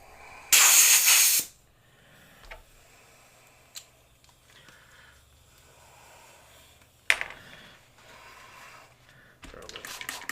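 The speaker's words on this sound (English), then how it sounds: "See, that spray bottle's perfect." A spray bottle of cleaner gives a loud, close hiss for about a second, then quiet handling clicks and knocks follow, with a second shorter spray burst later.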